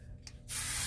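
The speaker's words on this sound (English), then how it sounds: "with a little mist of spray" A hair spray can lets out a short tap, then a steady, loud hissing mist of spray onto hair that continues to the end.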